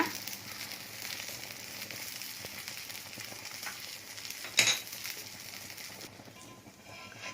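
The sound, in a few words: rice batter frying in a pan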